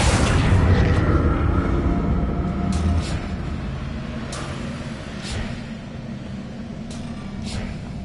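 Explosive blast from the Confringo fire spell in a Harry Potter video game, a loud rumbling boom with a dense low roar that slowly decays, followed by scattered faint clicks and effects.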